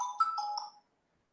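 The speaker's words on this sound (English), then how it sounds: "So I need to answer the phone" A phone ringtone plays in a class setting: a short burst of bright, melodic electronic tones lasting under a second, then cutting off into silence.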